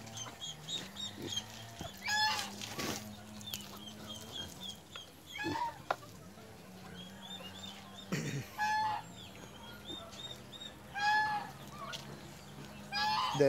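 Pet chickens, about two and a half months old, cluck and call repeatedly in a yard, the calls overlapping in a busy flock with occasional louder squawks close by.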